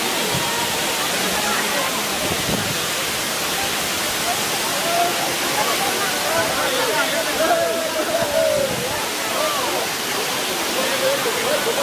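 Kakosang waterfall roars nearby as a dense, constant rush of spraying and falling water, loud and unbroken, with a voice faintly audible beneath.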